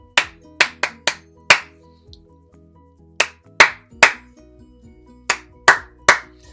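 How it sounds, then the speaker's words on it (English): Sharp, close hand claps beat out a short rhythm, a quick cluster of claps, a pause, then another patterned run, with each clap crisp and separate against a quiet background and faint soft tones underneath. "encourage your child to listen really carefully and clap the same rhythm back"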